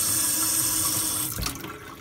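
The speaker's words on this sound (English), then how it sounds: "So turn on your faucet and check it." Water running from a single-handle kitchen faucet, a steady loud hissing stream that fills most of the clip before tapering slightly near the end, with no voices.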